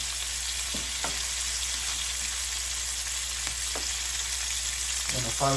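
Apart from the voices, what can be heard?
chicken frying in a hot pan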